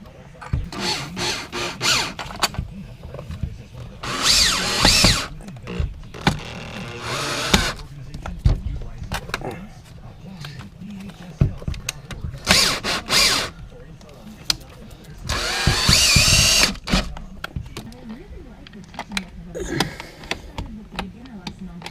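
A power drill drives screws into a storm door frame during installation, sounding in several short whirring bursts spread across the clip, with a voice talking in between and over the work.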